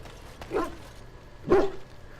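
Chester, the player's dog companion in the fantasy role-playing game Dragon Age: Origins, gives two short barks about a second apart, moderately close over a quiet ambient background.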